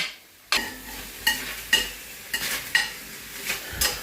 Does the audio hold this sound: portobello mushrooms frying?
yes